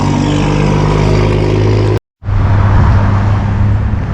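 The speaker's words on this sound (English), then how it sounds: "So this is a naturally aspirated engine on the 1M.35." A Massey Ferguson 1M.35 tractor's naturally aspirated 1.83 liter diesel engine idles loudly and steadily up close, with a brief cut in the middle before the same steady drone resumes.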